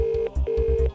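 Short electronic telephone dialing tones in a video game's phone-a-friend lifeline, a quick rhythmic series of beeps with a steady tone between them, alone and fairly faint.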